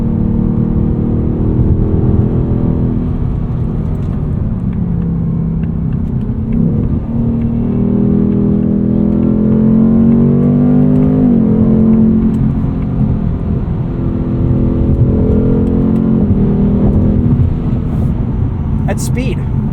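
A 2024 Ford Mustang GT Premium coupe with a V8 and 10-speed automatic accelerates in sport mode on a chilly day, engine rumbling and rising in pitch through gear changes from inside the cabin, with someone talking over it.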